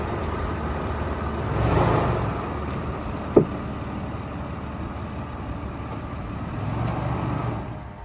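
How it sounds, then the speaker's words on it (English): A V6 Toyota Tacoma 4x4 engine idles steadily just after an oil change, a low continuous rumble heard alone at moderate level, with one brief sharp click partway through. "I just turned the engine on, which cycles the oil through."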